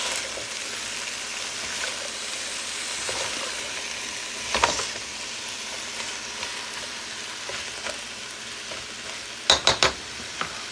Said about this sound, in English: I'm going to let this saute for a few minutes